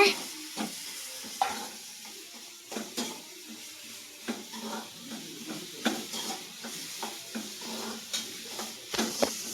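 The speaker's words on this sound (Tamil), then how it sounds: "இதுதான் வறுத்த முட்டை. நல்லா கிண்டிக்கோங்க." Egg being stirred and fried in a pan alongside beans and capsicum, with repeated clinks and scrapes of a utensil against the pan over a soft sizzle, fairly close and steady throughout.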